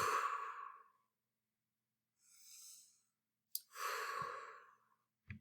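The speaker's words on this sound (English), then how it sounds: "Let's take 3 deep breaths." Slow deep breaths during a calming exercise, with two or three long audible exhales separated by quiet pauses, close and soft, plus a faint click.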